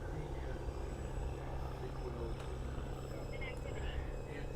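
Droning buzz of a radio-controlled aerobatic airplane engine during maneuvers, heard from a distance as a steady hum under continuous talking, with slight rises and falls in pitch as throttle changes.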